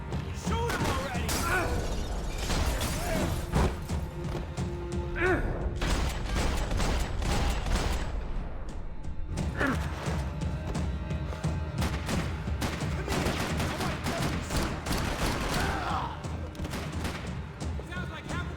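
Gunfights in the video game Max Payne 3: dense, continuous volleys of sharp shots and crashes pile up for the whole stretch, loud and unbroken, with a few heavier bangs among them.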